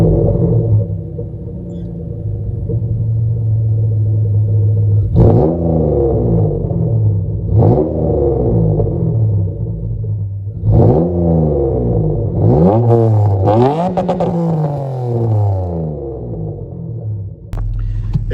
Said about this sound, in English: I'm gonna start the car up for you guys and let you guys hear how it sounds